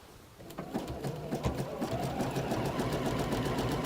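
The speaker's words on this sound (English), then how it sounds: "all I'm going to do is then stitch around with your satin stitch" Sewing machine running a satin stitch set to length 3, a dense steady rapid needle chatter that starts up and holds continuously, close and fairly loud with no talk.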